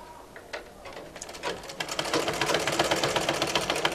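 A sewing machine stitching kameez fabric starts with a few separate clicks, then settles into a fast, steady mechanical chatter, close and alone.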